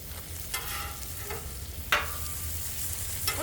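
Bacon frying in a pan gives a steady, soft sizzling crackle, with a few scraping stirs and light clinks over it, close but fairly quiet.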